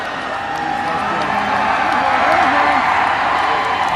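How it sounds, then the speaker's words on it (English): A university student section at an OUA football game, Queen's against Western, applauds a play with a broad roar of crowd noise and clapping, steady and loud throughout, with an announcer talking over it. "Gets an applause for his work from the student section"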